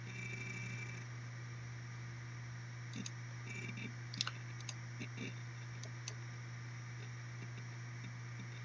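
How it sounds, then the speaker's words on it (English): A computer keyboard is typed on in a few short, faint clusters of clicking keystrokes over a steady background hum, with long pauses between bursts. "So I am going to type in"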